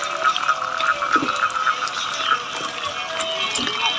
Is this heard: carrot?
no